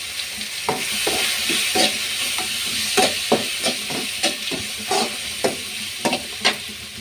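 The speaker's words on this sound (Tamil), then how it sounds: "பூண்டு இஞ்சி கட் பண்ண இஞ்சி அதையும் போட்டு சேர்த்து வதக்கிடலாம்" Chopped garlic and ginger sauté in hot oil in a pan, giving a continuous sizzle with repeated sharp scraping strokes of a spoon as the pieces are stirred. No one speaks.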